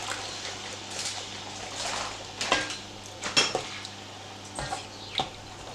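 Veal osso buco being stirred in a cooking pot, with a few clinking scrapes of a utensil against the pot and soft sloshing, fairly quiet and close, with no talking.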